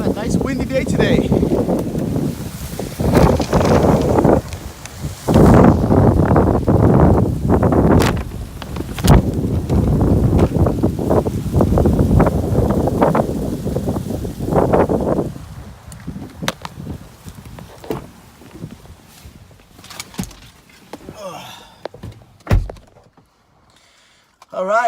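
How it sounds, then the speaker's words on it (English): Strong wind buffets and roars across the microphone for about fifteen seconds, then eases into quieter gusts and rustling. "Nice windy day today."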